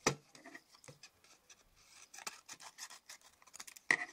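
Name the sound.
scissors trimming cardstock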